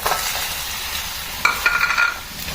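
Idli masala is stirred into noodles in a hot pan, a low sizzle under a spoon that scrapes and rattles against the metal in a busy burst midway before easing off.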